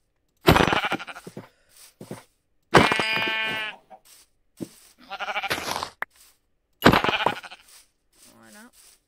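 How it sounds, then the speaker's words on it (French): Sheep in a video game bleat in several separate short calls, spread out with pauses between them. A voice talks around the calls. "il y a des moutons"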